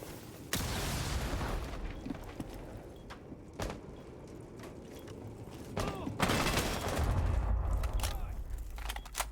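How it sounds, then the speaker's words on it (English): A gunfight with frag grenades in the video game Rainbow Six during a college esports match, with sharp gunshot bursts and impacts scattered over a low mechanical background. "We see a gunfight with frags."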